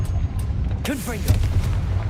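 Confringo fire spell in Hogwarts Legacy firing with a whooshing, pitch-bending burst followed by a deeper boom, short and punchy over a low ambient drone.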